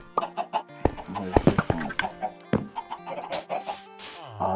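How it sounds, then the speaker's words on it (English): Chickens in the Minecraft game cluck in a rapid scattered series of short clucks, with a person's voice speaking briefly over them. "Oh, chickens."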